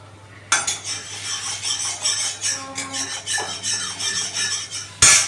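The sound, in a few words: grating potatoes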